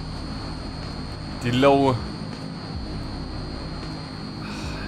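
Idling turboprop engines of a C-160 Transall in the MSFS 2020 flight simulator give a steady broadband drone with a constant high whine throughout, while someone talks briefly over it.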